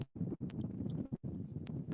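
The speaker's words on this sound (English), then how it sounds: "It's crazy windy out here." Wind gusts buffet the microphone out on the Mississippi River during a bluecat fishing trip, a low continuous rumble broken by a few brief drops, with no talk.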